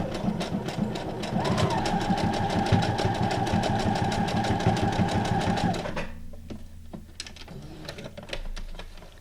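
A sewing machine runs a decorative stitch in a fast, steady mechanical chatter with a constant hum, then stops, leaving a few softer clicks and handling noises close by.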